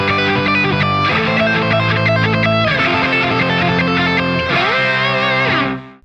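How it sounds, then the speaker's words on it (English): Fast circular-picking lines with pull-offs on a distorted electric guitar using the treble pickup, loud and unbroken, the notes rolling smoothly into each other for about six seconds before the sound stops. "now let's do it with the pull-offs. I'm gonna go to my treble pickup and give it a go"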